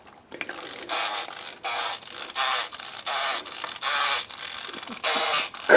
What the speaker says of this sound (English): let's take a look at how well she works when her motor is going.